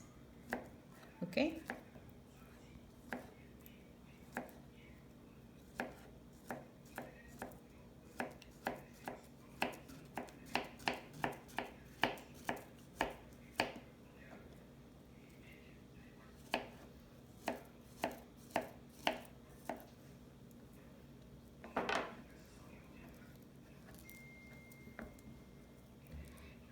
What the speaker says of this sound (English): And we are going to cut in a small slice.